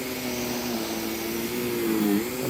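Vacuum cleaner running steadily on rugs with dry soil, a loud, continuous whirring drone with a slight shift in pitch near the end, alone without talk.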